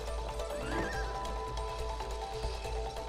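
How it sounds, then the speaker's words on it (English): A horse in the video game It Takes Two gives a loud whinny over steady clip-clopping hooves and game background sound, close and busy for a few seconds. "On horse now."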